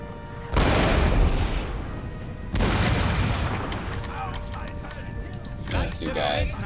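Troops fire in Napoleon Total War: two heavy, booming musket volleys crash out a couple of seconds apart, followed by scattered crackling shots and battlefield din, with a voice talking underneath.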